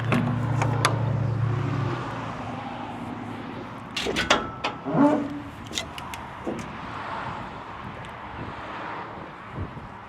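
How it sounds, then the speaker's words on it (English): An awning on a TMG tailgate rig swinging open outdoors: a steady low hum at first, then a cluster of sharp clicks, clunks and latch knocks as it pops up and locks, under wind. "Front air and rear awning pop up, lock in place."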